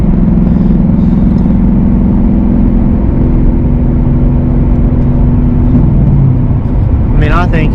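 A 2023 Ford Mustang Mach 1 exhaust while driving at night, a steady loud mid-low drone with a held engine tone that shifts briefly near the end, continuous throughout.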